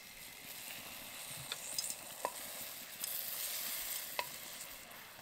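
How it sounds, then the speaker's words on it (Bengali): Fried nakshi pitha lowered into jaggery syrup, with a soft steady sizzle and a few small clinks and taps, quiet and close. "এবার এটা গুড়ের রসের মধ্যে দিয়ে দেব।"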